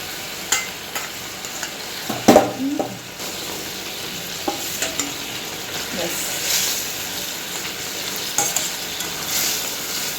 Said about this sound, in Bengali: পাবদা মাছগুলো এরপরে এর মধ্যে দিয়ে দেওয়া হবে আস্তে আস্তে